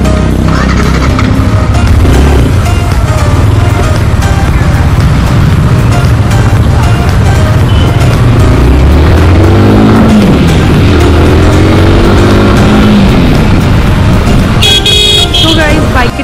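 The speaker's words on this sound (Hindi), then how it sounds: "सो गाइस हमने बाइक ले ली है और अब हम यहाँ से निकल रहे हैं" A new Yamaha R15 V4 motorcycle pulls away in loud, close traffic, its engine rising and shifting amid car horns and road noise, with people talking throughout.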